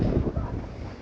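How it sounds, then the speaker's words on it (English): Strong wind buffets the open deck of the P&O Britannia cruise ship at sea, a steady low roaring rumble with gusty swells, loud and close, with no voices. "It's now very windy"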